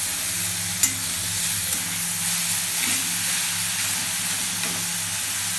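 Beetroot fries on low heat in an iron pan after tempering, producing a soft, steady sizzle and hiss with an occasional faint stir or tap, no voices.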